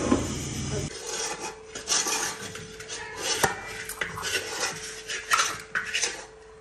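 A spoon scrapes and stirs besan roasting in a pan over low heat, a rasping, clinking metal-on-pan rhythm that continues steadily and close, with no talking.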